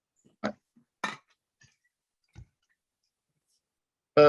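Several sharp, isolated computer mouse clicks spaced apart in near silence, with a brief burst of another sound at the very end.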